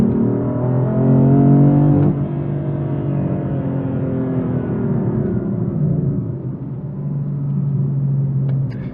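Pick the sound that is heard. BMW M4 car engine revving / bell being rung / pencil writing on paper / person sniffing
BMW M4 car engine revving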